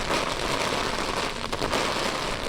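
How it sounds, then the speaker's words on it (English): Outdoors in rainy, windy weather, a dense, steady hiss of rain and wind noise fills the whole moment with constant loudness and no voices. "It's rainy, it's windy"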